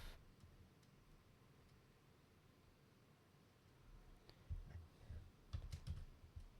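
Soft clicks from typing on a computer keyboard, first as sparse faint taps and then as a quicker cluster of keystrokes near the end, with no talking.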